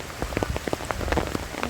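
Heavy rain pours down in a windy hillside spot near Wayanad, a dense, steady patter of close drops with sharp splashy hits throughout and no voices.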